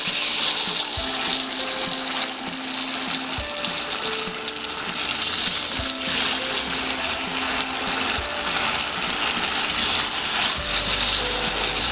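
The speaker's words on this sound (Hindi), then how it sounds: "अब हम इसमें गोभी डिप करेंगे और उसे फ्राई करेंगे" Cauliflower florets dipped in batter deep-fry in hot oil for gobi manchurian, giving a steady, dense sizzle and crackle that runs unbroken throughout with faint clinks of utensils.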